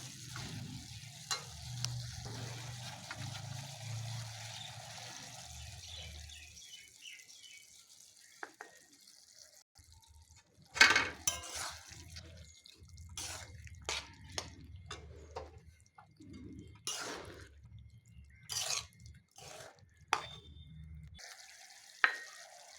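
A spoon stirs boiled potatoes frying with ground poppy seed paste in a pan, a steady sizzle carrying repeated scraping strokes and wet clicks; after a quieter moment the stirring turns louder and choppier, with no talk over it.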